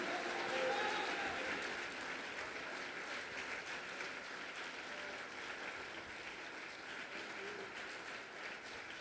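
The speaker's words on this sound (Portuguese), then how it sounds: "Você pode aplaudi-lo por isso?" A church congregation applauds, a steady wash of clapping that swells briefly near the start and then holds even and fairly distant to the end.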